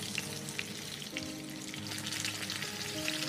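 Duck breast pan-fried over low heat while still giving off water and fat: a steady, close sizzle and crackle that runs the whole time with small pops scattered through it.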